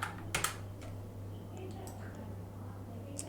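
Someone types on a computer keyboard while working in Figma, giving a few faint scattered key clicks over a steady low hum, with soft background noise and no clear talking.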